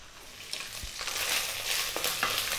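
Beef simmers and fries in a pan as its water cooks off, giving a dense hissing sizzle that builds slightly, with a few soft stirring scrapes nearby.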